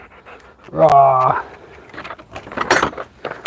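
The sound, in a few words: dog panting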